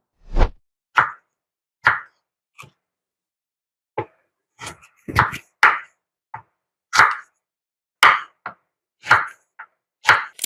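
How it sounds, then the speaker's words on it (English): Knife chopping peeled daikon, radish, turnip and onion for lacto-fermented vegetables, heard as a series of separate, close thwacks on a board at irregular intervals, with short pauses in between and no talking. "So let me go and chop them"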